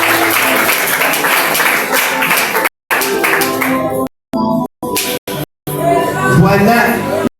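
Audience at a fraternal communion and committee installation bursts into applause, dense clapping and crowd noise broken by several abrupt cuts, returning loud near the end; speech is mixed in.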